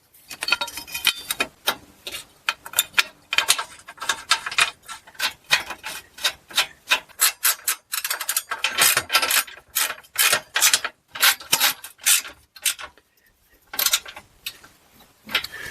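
Support bar bolts on a Buick Enclave being tightened with a ratchet: a long series of sharp, close ratcheting clicks in uneven bursts separated by short pauses, no talking.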